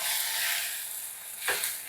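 Onions and chicken frying in a pan, giving a steady close sizzle that swells briefly near the end as the pieces are stirred.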